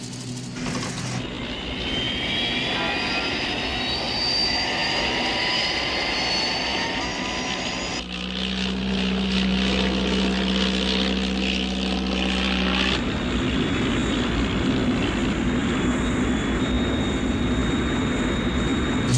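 Jet aircraft engines from a 1968 Thunderbirds television episode, a loud continuous roaring whine that shifts pitch abruptly twice and holds without pause or talk.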